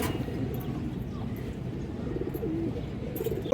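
A pigeon coos softly amid a pigeon collection, low murmuring calls against a busy background of other birds and faint voices, fairly quiet throughout.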